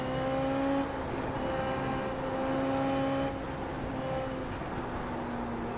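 SF23 Toyota race car engine in iRacing at Suzuka, a steady high whine that drops in pitch through downshifts, with a brief change around three seconds and no talk.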